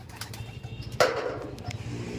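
Racing pigeons return to their loft, a soft pigeon coo and a sudden burst of flapping wings as birds land nearby, with faint chirps around them and no voices.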